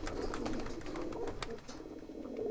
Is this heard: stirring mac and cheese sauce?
no